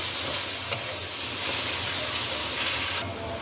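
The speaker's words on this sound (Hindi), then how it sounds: "फिर इसको लहसुन अदरक पेस्ट के साथ भी भून लें" Onions frying with garlic ginger paste in a pan for dal karela sabzi, a loud steady sizzle and hiss close up, dropping a little near the end.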